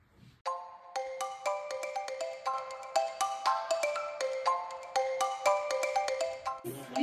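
A phone plays a melodic ringtone for an incoming call during a birthday celebration, bright plucked notes in a steady repeating tune, close and clear with no talking over it.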